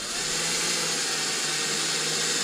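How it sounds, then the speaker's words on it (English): Steady, continuous whir of a power drill boring holes through the roll cage into the body panel of an HBX 2995 desert RC truck, sustained and close without pause. "We're going to transfer the front mounting points like so right through the roll cage and drill right into the body panel."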